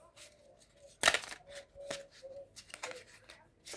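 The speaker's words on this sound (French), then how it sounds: "je vais battre les cartes" Oracle cards are shuffled by hand in a series of crisp riffles and soft flutters, with one sharp louder burst near the start, close and quiet, and no voice.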